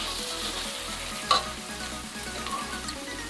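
Onion and ginger-garlic paste fry in a pan for mutton aloo curry, a soft, steady sizzle with faint crackles and a brief clink of a utensil stirring partway through.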